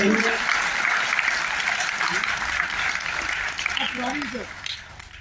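A seminar audience in Kolkata claps steadily. The applause slowly thins as a speaker's voice comes back in near the end.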